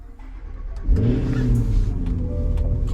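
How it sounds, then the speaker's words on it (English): A 2024 Cadillac Escalade V cold-starting: a short starter crank, then the engine catches with a loud rising roar and settles into a strong, rumbling idle close by. "Cold start."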